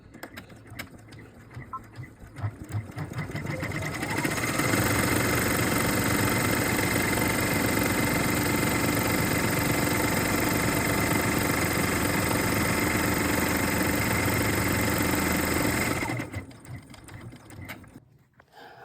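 An embroidery machine stitches a fabric Easter egg, ramping up after a few seconds into a loud, fast, steady mechanical whir with rhythmic needle clatter, then winding down and stopping near the end.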